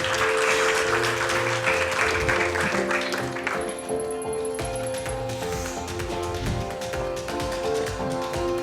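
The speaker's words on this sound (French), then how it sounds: "Sous vos applaudissements." An awards audience applauds as young leaders come onto the stage at a youth leadership prize ceremony, clapping strongest at first and then easing under sustained background music.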